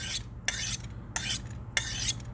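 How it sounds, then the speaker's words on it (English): Four crisp metallic scraping strokes of a knife drawn along a honing steel, evenly spaced, over a low steady background hum. "Take your steel. And this is where you start to draw your knife."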